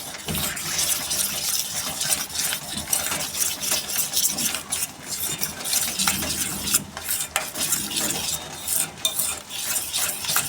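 Spoon stirring maize flour and gram flour dhokla batter with buttermilk in a bowl, a steady scraping and clinking that runs continuously for about ten seconds without speech.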